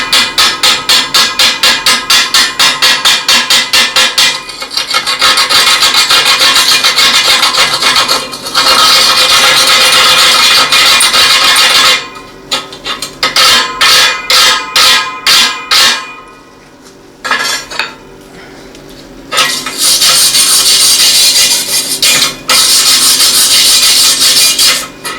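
Chipping hammer knocking slag off flux core welds made with a Harbor Freight 90 amp welder, a loud close rapid series of sharp metallic taps with scraping between bursts and short pauses.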